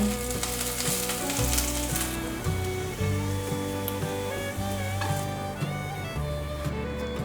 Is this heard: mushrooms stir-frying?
yes